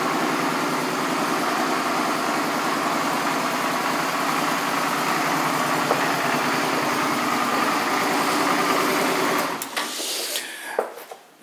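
A 2004 Suzuki DL650 V-Strom motorcycle engine idles steadily and close, a constant buzzing rumble that cuts off near the end, followed by a few faint clicks.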